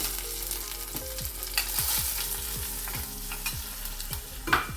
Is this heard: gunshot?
no